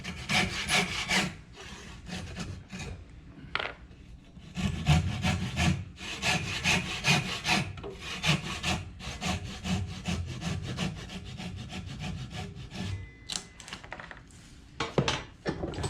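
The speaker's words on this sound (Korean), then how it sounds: "그리고 나서 번톱질 들어간다 그랬죠" A handsaw cuts through wood in steady back-and-forth strokes, loud and close, with a few brief pauses between runs of rasping strokes.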